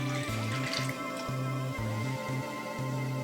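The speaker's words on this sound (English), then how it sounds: "First, we're gonna add our milk." Milk poured into a mixing bowl for rainbow cupcake batter, a close liquid stream with splashy, gurgling pulses over a few seconds and no talking.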